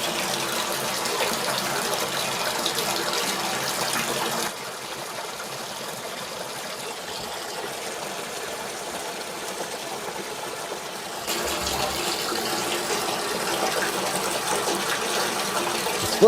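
Water gushing steadily into a Kleerdrain drain during a setup test, a continuous broadband rush that dips slightly quieter in the middle before swelling back up, with no talking.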